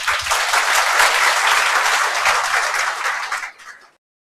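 A seated audience at a motivational talk bursts into full, dense applause that holds steady for about three seconds, then thins and dies away into silence.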